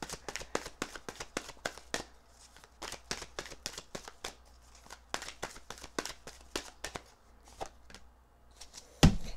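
Oracle cards are shuffled in quick, rapid riffling bursts, close up, with brief pauses between rounds of flicking and tapping.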